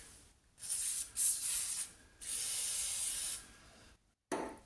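WD-40 penetrating oil sprayed onto the rear subframe of a Jaguar XKR in several loud, close hissing bursts of varying length, with short pauses between them and one final brief spurt.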